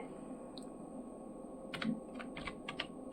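Typing on a computer keyboard: a scatter of light, quick key clicks in irregular bursts, faint and close, over a low steady hum.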